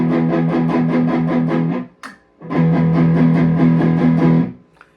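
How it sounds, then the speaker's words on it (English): A heavily distorted electric guitar on its bridge pickup, through a distortion pedal, plays sustained, buzzing chords, stopping briefly for a short pluck before ringing out again, loud and up close. "Turn on the bridge pickup."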